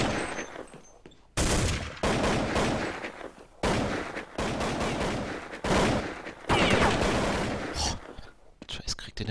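Rapid bursts of gunfire from a Counter-Strike match on de_mirage at Copenhagen Games 2012, player Trace shooting; dense, loud volleys repeat over several seconds with short gaps, likely under a commentator's talk.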